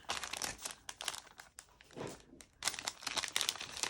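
Scrapbook supply packaging being torn and ripped apart by hand, with bursts of crinkling plastic and tearing paper close up, separated by brief pauses.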